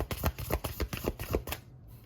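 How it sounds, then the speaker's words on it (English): Tarot cards being shuffled in a quick, steady run of crisp riffling bursts, about four per second, close and moderately loud, ending in a brief pause. "So I'm going to do 6 more shuffles starting now."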